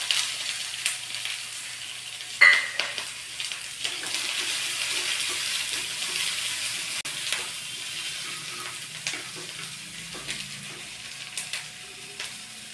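Shallots, garlic and green chilies frying in a pan, a steady broadband sizzle with a sharp crackle near the start and soft scraping stirs, close and continuous with no talking.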